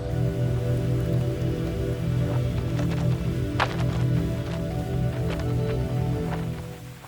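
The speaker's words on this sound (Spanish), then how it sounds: "todavía cae sirimiri, pero si se ponen a jarrear la liamos petarda" Light drizzle patters on a tent at a campsite in Norway, close and continuous, with scattered sharper drops striking the fabric over a steady low hum.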